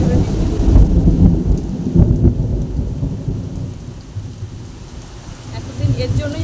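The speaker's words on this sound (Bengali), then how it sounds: "বৃষ্টির এতটাই যে চারদিকটা শঁশান আওয়াজ হচ্ছে, আর মেঘের গর্জন তো শুনতেই পেয়েছে" Heavy rain pours loudly and steadily while deep thunder rumbles and rolls through it, close and enveloping.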